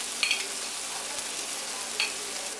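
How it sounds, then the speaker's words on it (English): Onion and crushed garlic frying in olive oil for lamb shanks, a steady soft sizzle with two brief sharper clinks or stirring scrapes, heard alone at moderate level. "Just a little bit more olive oil. Throw in our onion, your crushed garlic"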